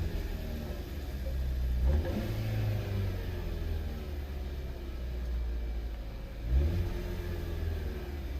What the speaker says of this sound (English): Kind of hearing what sounds to be a little bit of a turbo wastegate rattle if you listen carefully.